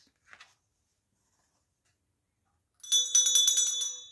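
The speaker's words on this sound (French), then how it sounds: "La cloche a sonné." A school bell rings, a bright metallic trill of rapid strikes starting partway through and running to the end, loud and alone after a brief faint rustle.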